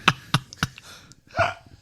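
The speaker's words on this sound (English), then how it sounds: "Suitcase destroying the microphone with his burp" A man burps loudly right into a microphone, a few sharp, close, distorted bursts followed by a longer rough belch, no talking.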